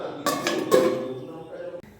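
A lid is set onto a home kitchen cooking pot of boiling potatoes and beans, giving a few quick close metallic clinks with a short ringing tone over low background noise.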